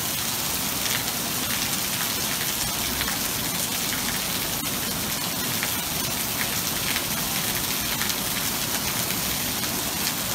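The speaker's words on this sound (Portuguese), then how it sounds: "5 minutos de chuva, galera." Heavy rain pouring down on a flooded residential street in Brazil, a dense, loud, continuous hiss of drops hitting water and surfaces, steady throughout with no voices.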